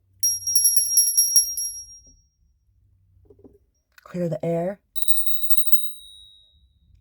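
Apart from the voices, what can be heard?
bell being rung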